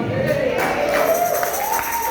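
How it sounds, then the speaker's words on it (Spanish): Church congregation applauding and cheering during a sermon, a dense continuous crowd roar with clapping and raised voices filling the space, with a rising sustained vocal shout running through it. "yo quiero darle un aplauso a estos Nehemías que se están levantando hoy."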